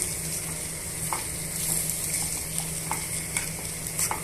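A spoon stirs tomato chutney seasoned with asafoetida in a pan, giving soft scraping strokes over a faint, steady sizzle with no voices.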